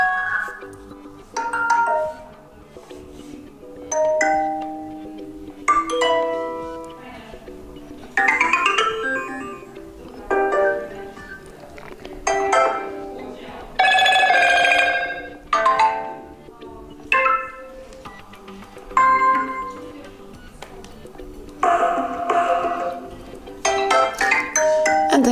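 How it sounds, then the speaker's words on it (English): A series of voicemail ringtone previews plays on a Motorola Edge phone, one short chime or melody after another with brief gaps between them, close and clear with no talking. "So this is how you can change ringtone for your voicemail."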